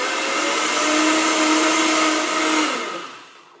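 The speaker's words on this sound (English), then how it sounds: "we put it on the blender base, and then you start really small or really slow." A Vitamix S30 personal blender motor whirs loudly and steadily at close range for about two and a half seconds, then winds down and fades out, with no voices.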